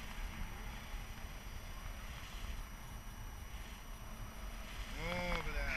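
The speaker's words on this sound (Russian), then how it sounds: "Ветер хороший, да?" Steady wind roars and buffets the microphone with a low rumble throughout, and a faint voice briefly surfaces near the end.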